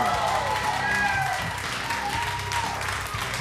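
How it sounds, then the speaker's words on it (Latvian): A studio audience at a televised karaoke championship applauds steadily throughout, with a voice speaking over the clapping. "Aplausus arī Dīdzim!"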